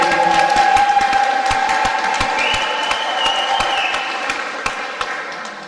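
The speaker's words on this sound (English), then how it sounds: "Give Elaine a big round of applause." Crowd applause at the opening of a magic show, with scattered sharp claps and some cheering over a steady background rumble, fading slightly toward the end.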